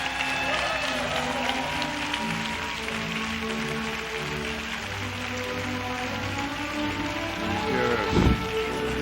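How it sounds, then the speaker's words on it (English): Graduates marching out get a crowd's dense, sustained applause, a continuous rain-like patter of many hands, with a brief louder thump near the end. "Give them a great hand of applause."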